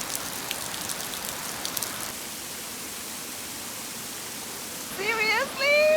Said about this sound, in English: the rain is just getting stronger and stronger